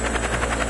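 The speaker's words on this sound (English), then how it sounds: "There's a helicopter somewhere." A helicopter flies over a snowy ski area, heard as a steady, loud rotor whir with a rhythmic chop through the whole short stretch, and no voices on top.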